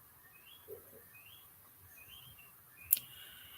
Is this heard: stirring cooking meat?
no